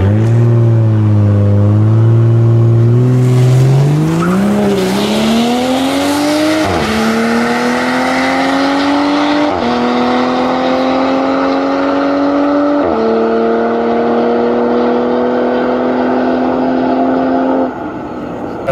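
A 2020 Toyota Supra makes a hard quarter-mile run, its engine revving loud and close, climbing in pitch through several gear shifts with brief dips between them, then cutting off near the end.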